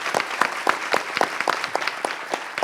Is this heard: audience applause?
yes